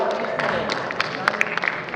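Audience members at a lecture event clap in a short, scattered burst, with a voice talking over the applause as it builds unevenly.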